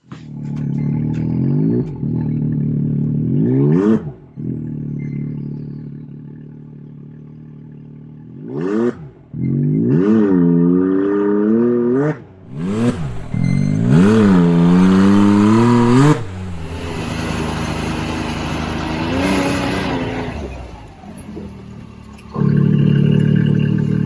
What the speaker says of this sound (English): You can hear a little more turbo without the cap.